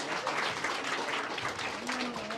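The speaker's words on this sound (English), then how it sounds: "Please give a clap, big hand for yourself." The crowd at a tech developer meetup claps for a website launch, a brisk, even burst of applause from a room of people, with a faint voice surfacing near the end.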